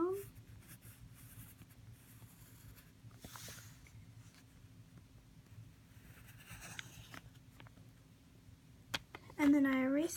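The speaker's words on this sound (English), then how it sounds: "I draw a circle." A pencil scratches steadily across paper while an anime face is sketched, a close, quiet scraping that runs throughout, with a brief louder rustle near the end.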